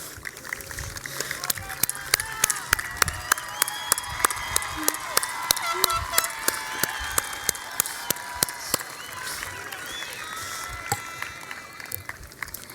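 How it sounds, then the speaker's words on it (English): A crowded high school graduation audience applauds at length, dense clapping with sharp individual claps standing out, mixed with scattered cheers and shouts from a large room or venue. "let's all rise and give a round of applause to the people who helped us reach this moment"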